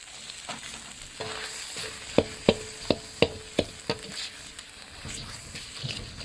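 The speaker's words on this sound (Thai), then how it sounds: "ผัดไปเรื่อยๆนะคะ เราสามารถจะเติมกะทิลงไปได้เรื่อยๆค่ะ" Curry paste for a coconut-milk curry with ivy gourd and fresh shrimp being stir-fried, a soft sizzle punctuated by a run of sharp spatula taps and scrapes against the pan in the middle, fairly quiet, no talk.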